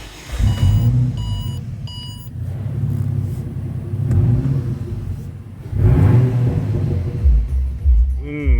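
A Ford Falcon Ghia Turbo with 177,971 km on the odometer starts up, its engine rumbling at idle and surging through several loud revs with pauses between.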